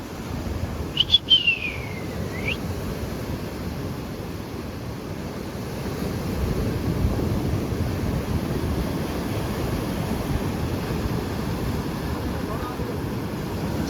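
Steady roar of sea surf and wind at the coast while heading out to cast a fishing net, continuous and fairly loud, with a brief bird call near the start and no talking.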